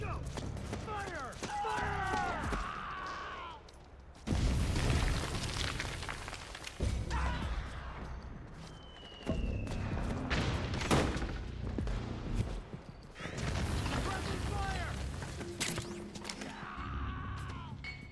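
Gunfire and heavy blasts in the Metal Gear Solid 4 video game come in loud, repeated volleys, including crashes and booms, under shouted battlefield voices.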